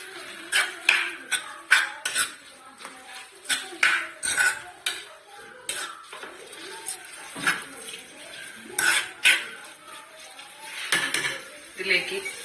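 A metal spoon scraping and clinking in a pan while stirring potato and spinach curry with turmeric and salt, irregular close knocks and scrapes in uneven bursts.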